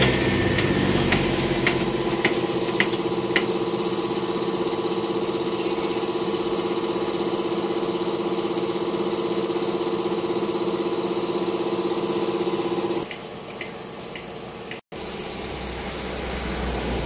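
A Honda Beat scooter engine idles close by with a steady mid-pitched hum and vibration, then drops in level partway through before resuming, with no talking.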